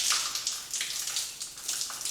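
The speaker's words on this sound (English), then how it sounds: "this fourth one is for this tap water at the bottom" Water pours from a bathtub tap in a newly renovated master bathroom, a steady close hiss of running water that surges gently in waves, with no talking.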